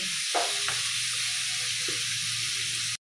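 Pork fries in a pan with a steady, even hiss close by, a couple of light clicks early on, and a low hum beneath before the sound cuts off abruptly.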